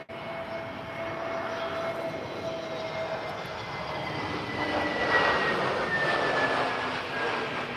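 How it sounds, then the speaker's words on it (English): EasyJet airliner landing at an airport: a steady, loud jet engine roar with a high whine, holding level and swelling slightly as the plane passes, with no talking. "First we have a landing by EasyJet before the other aircrafts get to take off."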